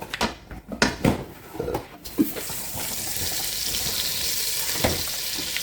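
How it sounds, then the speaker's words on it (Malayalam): Butter melts and sizzles with oil in a pan for a chicken sandwich, a few clattering knocks at first giving way to a steady, close frying hiss. "ഞാൻ അതിലോട്ട് 1 ടീസ്പൂൺ ബട്ടർ ആഡ് ചെയ്ത് കൊടുക്കുന്നു"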